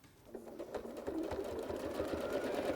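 A sewing machine stitches steadily along a quilting ruler, tracing a curved clamshell quilting design, its fast needle chatter running continuously and growing slightly louder after the opening moment, with no voices.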